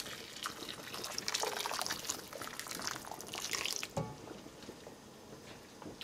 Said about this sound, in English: we're gonna add enough water to cover